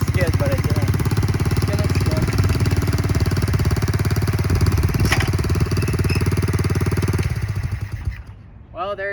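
A 1971 Honda CT70H, a small four-speed motorcycle, runs at a loud, steady, rapid-firing idle close up. A brief rev comes midway before the engine note thins out near the end.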